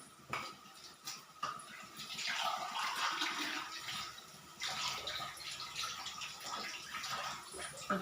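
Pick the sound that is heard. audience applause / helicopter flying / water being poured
water being poured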